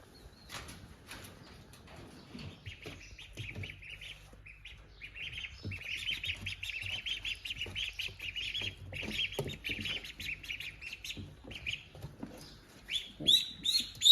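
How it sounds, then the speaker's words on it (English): Twelve-day-old ducklings peep in their pen on a smallholding, a busy chorus of high, thin chirps that builds steadily and grows louder toward the end, nearby and without talk. "we'll take you over and show you the ducklings"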